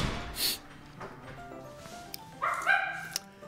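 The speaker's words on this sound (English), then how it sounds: "that barking dog was not part of the game" A dog barks nearby in a few yapping bursts, then whines and yips in a high pitch, heard indoors over a quiet room.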